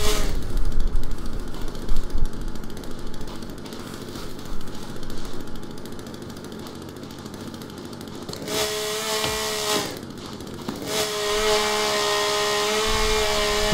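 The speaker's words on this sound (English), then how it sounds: "Managed to hunt this rabbit with a chainsaw." Chainsaw in The Forest video game, a loud continuous buzzing motor that drones through the first half, then revs higher with steady whining tones and short cutoffs.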